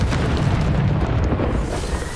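Bombarda explosion spell in Hogwarts Legacy, a loud, dense roaring blast that fills the whole moment without a break.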